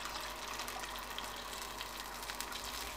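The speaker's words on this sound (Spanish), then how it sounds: "Mirad, le voy a echar a más agua." Water poured steadily into a pan of rice with duck, a continuous close splashing gush with no talk over it.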